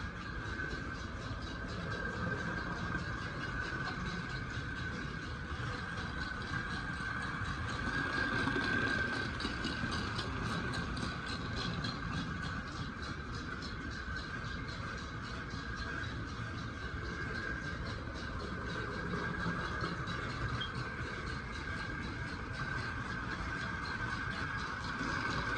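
TYCO HO toy train, an '85 TYCO locomotive pulling a 40ft hi-cube Ralston Purina boxcar with chug-chug sound, running in a steady continuous whir and rumble, faint and unbroken throughout.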